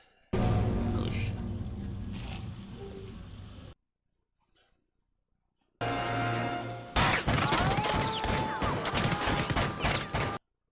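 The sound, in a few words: repeated gunfire in the movie The Crimson Rivers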